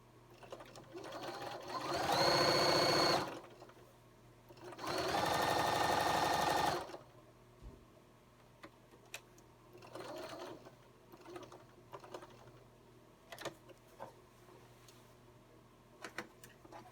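A sewing machine top-stitches a lined jacket pocket in two loud, steady bursts of a few seconds each. Quiet handling noises and small clicks follow the bursts.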